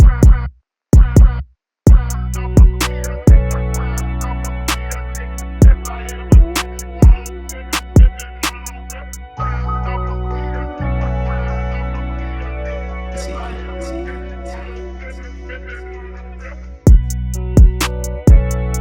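A finished sampled hip-hop beat plays loud and steady, with punchy drum hits, deep sustained bass and a saturated, EQ-filtered vocal sample riding on top, briefly dropping out near the start.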